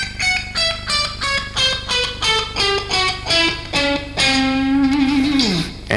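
A guitarist plays a self-invented scale on electric guitar, a clean run of quick ascending and descending notes ending in a sustained note that bends downward, loud and alone.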